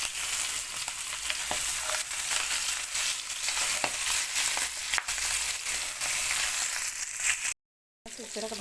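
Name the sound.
chicken frying in a pan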